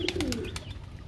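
Low, soft cooing of pigeons close by, with a few light flutters and clicks mixed in over a brief stretch.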